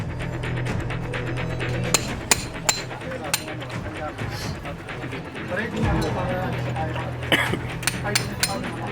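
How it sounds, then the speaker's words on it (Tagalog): Sharp hammer blows break concrete by hand at irregular intervals during a rescue, several distinct impacts over a steady mechanical hum with voices in the background. "mano-manong binasag ang sementong nakapalibot dito gamit ang martilyo"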